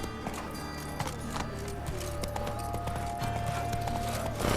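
Geralt's horse Roach trotting in The Witcher 3: Wild Hunt, a steady rhythmic clip-clop of hooves over a low ambient game soundscape, moderately close with no talk.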